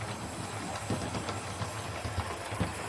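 A model 61XX steam locomotive runs along a model railway track, giving a steady, continuous rumble with soft, rhythmic clicking from the rails and no talking.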